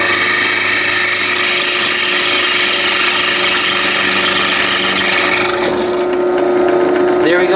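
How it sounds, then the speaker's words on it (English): A drill bit bores through a steel knife blade with a constant, loud, harsh grinding whine that holds steady, then thins and eases slightly toward the end as the bit breaks through. "I just drilled it through"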